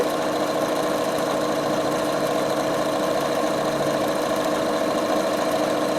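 A Bernina sewing machine runs continuously as it stitches lace onto fabric edges, a steady, close mechanical whir with a rapid even needle rhythm and no talking.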